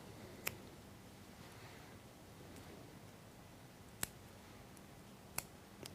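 Scissors trimming waste fibres and thread while tying a G.P. Tippet Intruder salmon fly, heard as a few sharp, faint snips spaced irregularly over a quiet background.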